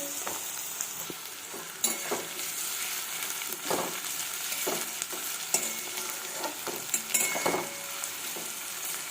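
Onions stirred and fried in a pan for cabbage Manchurian, a constant close sizzle punctuated by repeated scraping strokes of the spoon at an uneven rhythm, with no talking.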